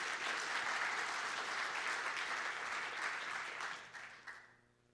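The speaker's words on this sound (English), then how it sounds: "A round of applause." Sustained audience applause at a talk on opioids, dense and steady for several seconds before tapering off and fading out at the end.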